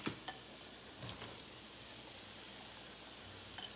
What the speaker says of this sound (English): I'm going to throw in my mushrooms.